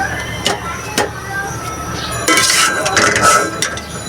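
Greens being served out of a large wok, with metal pots and utensils clinking and scraping in several sharp knocks and a longer clattering stretch, close by in a home kitchen.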